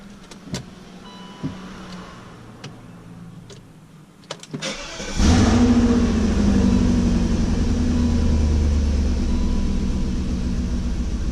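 After a few quiet clicks and taps, a BMW 4.4-liter V8 engine cranks and fires, then settles into a loud, steady, raspy idle with a deep rumble and no misfire.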